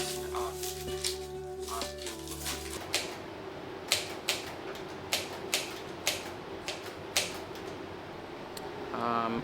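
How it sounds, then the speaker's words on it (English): Keys are typed on a keyboard in a home, a run of distinct, evenly spaced clacks following a stretch of tonal background sound with a voice, ending in a brief rustle. "I am writing a post for my Saturday newsletter."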